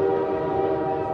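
A train in a movie trailer sounding a loud sustained horn chord, a steady harmonic blast lasting about a second and heard alone.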